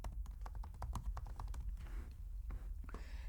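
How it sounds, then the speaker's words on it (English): Typing text on a computer keyboard, a quick series of close, distinct key taps with brief pauses, moderately loud and without speech. "I'm just going to type in the text box that's displayed"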